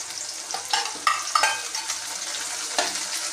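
Tomatoes tipped into shallots frying in a pan for tamarind curry, sizzling steadily with stirring and a few sharp spoon scrapes and clinks against the pot.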